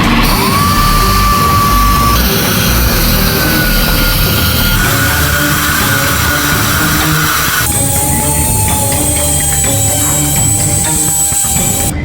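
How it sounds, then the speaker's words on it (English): A rotary sanding tool whines loudly and steadily while touching up the router-cut edge of a wooden coin, its pitch stepping up and down as the load changes, with no talk over it. "I'm just doing a little bit of touch-up sanding right now"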